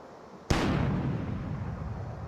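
A cannon-like blast fires a character away in the Book of Unwritten Tales video game: a sudden loud boom after half a second of quiet, then a long rumbling decay.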